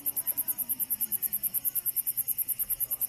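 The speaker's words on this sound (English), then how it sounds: "The cicadas are hurting my ears." Cicadas pulse in a fast, steady, regular buzz, loud and close, with no voices.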